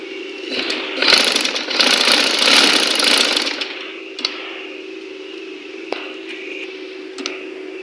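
A sewing machine stitches fabric for a girls' dress, beginning from the middle of the joined pieces; a steady mechanical whirring hum is louder early on, then continues quieter with a few small clicks.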